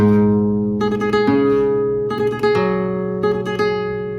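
Plucked nylon-string flamenco guitar tremolo notes ring out in uneven bursts, a thumb bass note followed by quick clustered repeated strums, played alone and close.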